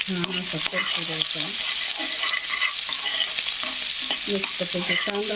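Onion frying in hot oil with mustard seeds and cumin, a loud, dense, crackling sizzle running throughout, with steady stirring scrapes close by.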